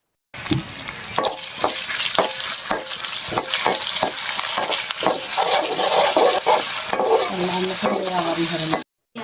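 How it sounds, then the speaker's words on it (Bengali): Marinated chicken pieces going into a hot wok, home-style restaurant chicken curry with household spices, set off loud steady frying and sizzling with repeated clattering stirs and scrapes of a spatula against the pan throughout. "ম্যারিনেট করা যে মাংসগুলো রয়েছিল সেগুলো কিন্তু আমরা কড়াইয়ের ভিতর সুন্দর করে দিয়ে দিচ্ছি"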